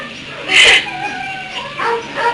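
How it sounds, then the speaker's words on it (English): Dogs give a few short, high yips and whimpering barks, close and fairly loud, over a quiet background. "When I listen to the lungs, I hear dogs barking."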